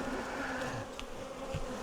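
Honeybees swarm over heavy, full honey supers, a thick steady buzzing close by with a few bees darting near, brief and unbroken, no voices.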